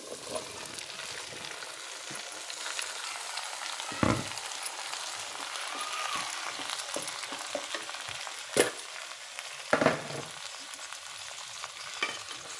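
Fresh mint leaves fry gently in a pan for a tomato-mint pickle, giving a low continuous crackle with a few sharper scrapes of the spoon, close and fairly quiet, with nobody speaking.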